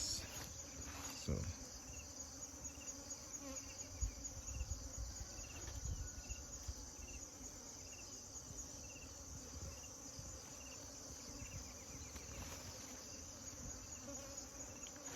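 Bees buzz continuously around a hive, a soft, steady drone with occasional louder passes as individual insects fly close.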